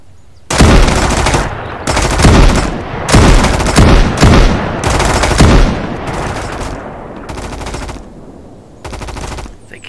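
Shotgun fire in the survival game Mist Survival comes as a series of very loud, close booming blasts in irregular bursts over about ten seconds, each shot trailing into a short rumble, with no talk.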